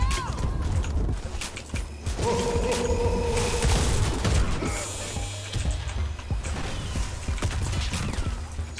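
A Mossberg 590 pump shotgun fires in the Warface video game, amid a busy mix of blasts, mechanical clacks of pumping, and metallic game effects, loud and close.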